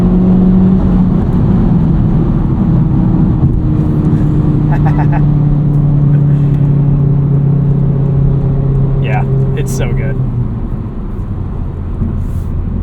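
FL5 Honda Civic Type R with a COBB Accessport tune pulling hard in third gear, a loud rising engine drone heard from inside the cabin that climbs steadily, then drops away at the shift, with someone talking over it.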